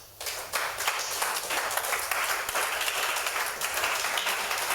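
A church congregation claps and cheers together, a steady wash of applause and voices that rises quickly and holds loud and sustained throughout.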